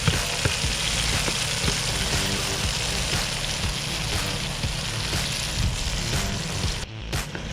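Vegetables sauté in a pan for a Jamaican-style coconut milk fish stew, a loud, constant sizzle with faint rhythmic stirring ticks, close up and without speech, cutting off abruptly near the end.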